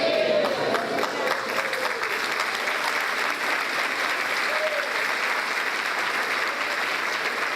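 Steady, dense applause from a church congregation praising the Lord fills the room, sustained and even throughout, with a faint voice briefly rising over the crowd.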